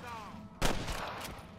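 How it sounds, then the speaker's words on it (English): One loud gunshot goes off during a gunfight in the Red Dead Redemption video game, and a fainter second shot follows a moment later over quiet background sound. "He's still shooting at me."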